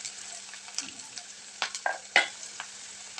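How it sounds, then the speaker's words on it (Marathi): Chopped onion frying in a pan for a potato dry curry, with a low steady sizzle under several sharp scraping stirs of a spatula, close and clear with no talking. "त्यामध्ये जो चिरून घेतलेला कांदा आहे तो ॲड केला आहे आणि कांद्याला आपण छान सोनेरी कलर येईपर्यंत, सोनेरी रंग येईपर्यंत हलवून घ्यायचं आहे"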